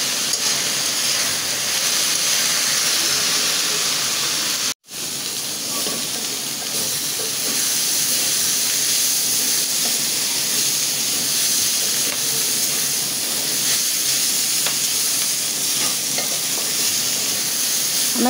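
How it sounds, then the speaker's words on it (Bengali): Runner beans and koi fish cooking down in a pan give a steady, loud sizzle and hiss, broken once by a brief silent gap, then carrying on continuously with faint stirring. "এখন আমি একটু ভাজা ভাজা করে নেব"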